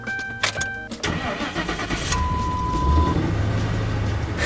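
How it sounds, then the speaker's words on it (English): A car engine cranking and catching after a battery drain fault, with beeping tones early on, then settling into a steady running idle close by; no talk. "If the car actually starts, it's gonna be awesome."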